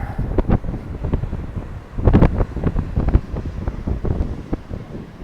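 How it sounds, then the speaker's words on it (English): Gusty wind on a coastal point in Ericeira, Portugal buffets the microphone in low rumbling bursts, with a stronger gust near the middle; no voices. "It starts getting pretty windy as we come out on the point like this."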